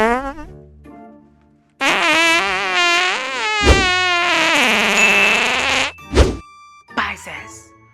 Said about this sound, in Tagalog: Kaya mong pigilan yung utot mo sa harap ni Crush.